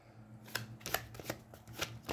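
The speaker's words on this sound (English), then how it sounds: "And shuffle it back in the deck." A physical deck of cards from the Aeons End 2nd Edition card game is shuffled by hand, giving a run of quick, crisp riffling bursts at an uneven rhythm, close and fairly soft, with no talking.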